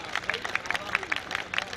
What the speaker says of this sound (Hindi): इस पंक्ति पर तालियां कम बजती हैं, आपने बजा दी